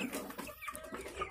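Hens in a semi-intensive poultry house cluck softly and close while pecking at maggots, in short broken calls over a faint barn background.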